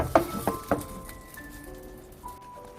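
Whole peeled canned tomatoes are mashed and stirred in a pan, giving a few sharp clinks and scrapes of a utensil against the pan up front, then quieter stirring with a faint sizzle.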